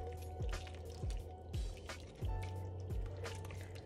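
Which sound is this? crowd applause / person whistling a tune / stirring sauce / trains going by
stirring sauce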